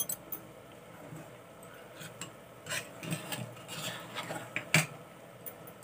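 Ghee spooned into a pan of jaggery and water chestnut flour, with quiet scrapes and clinks of a metal spoon against the pan, intermittent and close, with a few sharper taps.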